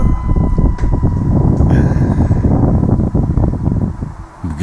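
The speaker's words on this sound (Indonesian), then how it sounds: "kipas angin tadi nyalain kipas dulu deh" An electric fan blowing in a hot abandoned house, a loud, close, steady airy rush with low rumbling buffeting that fills the whole stretch.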